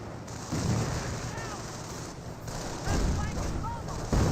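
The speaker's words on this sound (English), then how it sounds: "those are stun grenades" Stun grenades go off in the World War II strategy game Company of Heroes: a few dull bursts and cracks amid distant battle gunfire, heard under a commentator's voice.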